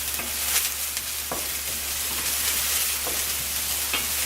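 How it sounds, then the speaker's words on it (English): Onions sautéing in a pan while being stirred for risotto, a steady close sizzle with occasional light scrapes and clicks of the spoon against the pan throughout. "Give my onions a stir."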